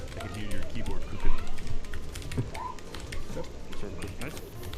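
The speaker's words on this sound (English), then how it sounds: "I can hear your keyboard cooking." Rapid computer keyboard typing clatters continuously through an online game session, mixed with game sounds and a voice talking over it.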